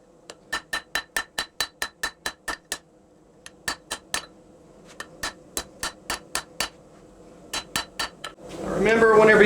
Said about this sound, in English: now I'm going to use my straight peen and pinch and stretch it